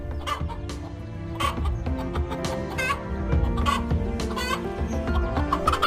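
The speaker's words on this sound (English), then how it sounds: "The aggressiveness of the mother hen made it impossible for the snakes to do anything but move elsewhere." A mother hen clucks repeatedly, agitated and defensive as she protects her chicks from a cobra, her calls layered over a busy, continuous background of other sounds.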